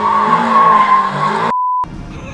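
A BMW drifting on a driving-course track, its tires squealing in a loud sustained screech with a steady pitched whine, then cutting off abruptly to quieter ambience.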